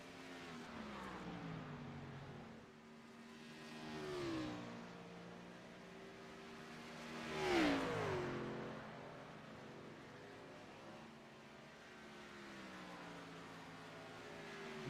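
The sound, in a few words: race cars running on track in a stock car race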